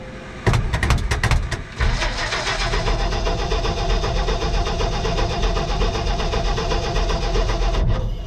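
A cold 1958 Ford V8 with the choke pulled cranks in a rapid burst of starter turns, then catches and settles into a loud, rough, steady idle nearby.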